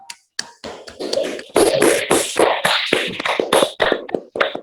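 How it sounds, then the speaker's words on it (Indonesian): A small group of students in a classroom claps for a classmate, with crisp, uneven hand claps bunched into short bursts and brief gaps, close and fairly loud. "Tepuk tangan untuk Mbak Kamila."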